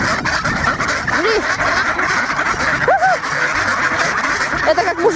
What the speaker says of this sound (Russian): Папа хочет покормить уточку нормально